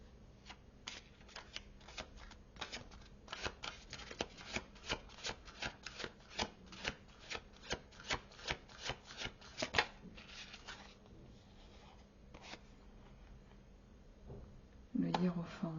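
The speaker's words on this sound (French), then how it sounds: "Je vais mettre 3 cartes de tarot pour voir ce qui vient en complément" Tarot cards are shuffled and laid down in a steady run of crisp, close riffling snaps that thin out toward the end, with a brief burst of louder handling at the finish.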